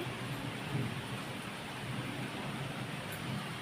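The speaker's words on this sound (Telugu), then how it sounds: "వాన అయితే బాగా వస్తుంది ఇప్పుడు ఇప్పుడే కొంచెం చినుకులు ఇటు పడుతున్నాయి" Rain falls steadily outdoors as a continuous broadband hiss at moderate loudness, with no voices.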